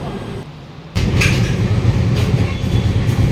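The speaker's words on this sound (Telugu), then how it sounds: "ఇదే అండి మా ట్రైన్." A Bharat Gaurav passenger train runs along the rails, a loud, steady rumble with rhythmic clatter that swells sharply about a second in and then holds close.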